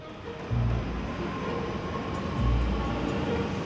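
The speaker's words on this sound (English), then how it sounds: "This is the train from London Bridge to Greenwich today, running on exactly the same route" A train running from London Bridge to Greenwich along raised arches, a steady rumble and rattle of wheels on rails at moderate distance, with a couple of heavier thumps from carriage joints, no voices.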